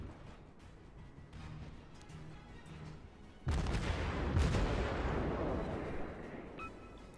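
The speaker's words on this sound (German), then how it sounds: "Torps kann man mal schießen." Torpedoes launch from a warship in World of Warships: a quiet stretch of distant game ambience gives way to a sudden loud rushing burst that slowly fades, ending with a couple of faint clicks.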